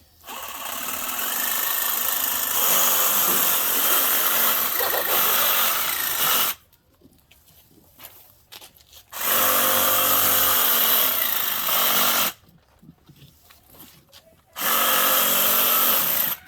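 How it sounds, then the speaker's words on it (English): A Ryobi power carving tool cuts into a pumpkin in three loud, sustained whining bursts, separated by quieter gaps filled with faint handling noise. "Ryobi really have the best carving or pumpkin carving tools."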